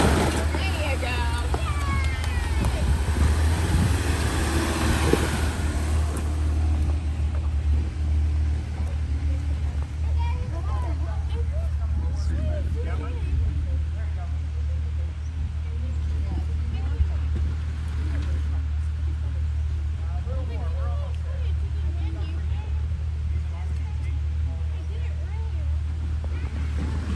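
A Jeep engine drones steadily while the vehicle crawls over bumps on an off-road trail at the Tillamook Jeep Jamboree; a loud, continuous rumble with people talking over it.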